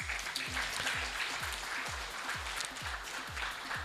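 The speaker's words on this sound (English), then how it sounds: "Please keep clapping, please." At a women's and Gen Z wealth summit, a crowd applauds guests invited on stage: a continuous hiss of clapping over a steady, thumping music beat.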